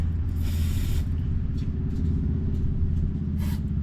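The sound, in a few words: spraying protectant inside RV hitch to prevent rust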